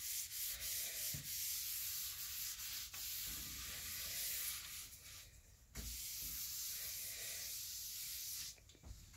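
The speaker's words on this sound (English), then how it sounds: "We'll sand it down with 150." Furniture being sanded by hand with 150-grit sandpaper for a custom gel stain job: steady scratchy rubbing strokes, close and continuous, with brief pauses between passes.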